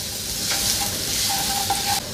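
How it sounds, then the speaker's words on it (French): Minced garlic frying in oil in a pan crackles with a dense, continuous close sizzle, steady and fairly loud, alone without any talking. "On en met à chauffer dans une poêle et je viens y faire frire de l'ail que j'ai émincé en tout petits morceaux"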